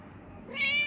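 A young cat gives one short, rising meow near the end, close and clear after a brief quiet lead-in, alone without talk.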